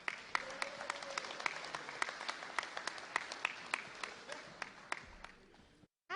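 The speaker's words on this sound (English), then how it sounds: "Clap your hands for Angela Herlock." Scattered audience clapping at a public bill-signing event on public safety legislation, with sharp individual claps ringing out in a loose, uneven rhythm before cutting off abruptly.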